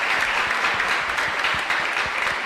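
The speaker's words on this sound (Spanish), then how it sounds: "ese sí que vale un fuerte aplauso para la dos" Congregation at a live parish mass, San Miguel Arcángel church in San Lorenzo, breaking into loud, sustained applause that fills the space steadily with no voices over it.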